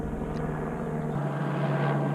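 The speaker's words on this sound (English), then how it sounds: "Let's see how fast that chopper's going." Helicopter passing overhead makes a steady low rotor drone with a constant engine hum, loud and close throughout, heard alone without talk.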